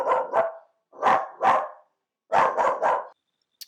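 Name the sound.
dog barking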